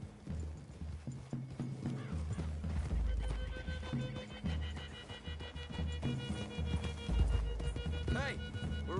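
Horses in Red Dead Redemption 2 clop along with hooves thudding amid a neigh near the end, under game dialogue and music, the clatter steady and fairly loud.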